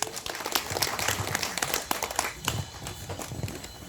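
An audience at a tax and legal seminar claps to welcome a tax accountant to the stage, a fairly faint, steady patter of many hands continuing for several seconds with no voices.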